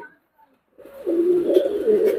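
Belgian racer pigeons in a loft, down-phase birds, cooing in a steady low rolling murmur that builds after a short quiet start, close and continuous with faint chirps above.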